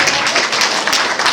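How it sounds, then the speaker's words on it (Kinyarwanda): Guests applaud at a wedding with a brief, dense burst of steady clapping, fairly loud and filling the whole moment without other sounds. "amashyi menshi kwa Yesu"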